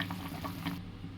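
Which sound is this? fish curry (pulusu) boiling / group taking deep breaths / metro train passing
fish curry (pulusu) boiling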